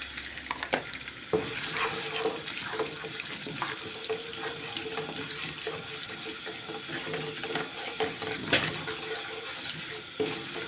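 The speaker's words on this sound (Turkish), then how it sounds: "Evet, şehriyeleri kattım. Şöyle kavuruyorum." Vermicelli toasts in a pan with a soft, steady crackling sizzle and intermittent scraping stirs, fairly quiet and close, with no talking.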